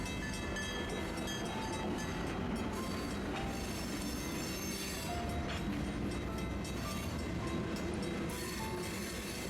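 A rock-carrying freight train from a quarry rolls across the Gold Lane at-grade crossing, producing a steady, loud rumble of railcars with faint wheel squeal and rail clatter, continuous for the whole stretch with no talking.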